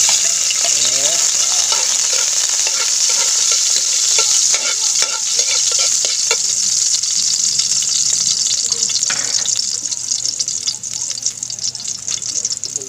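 Garlic fries in a hot pan, giving a loud continuous sizzle with repeated scraping stirs throughout, close and steady.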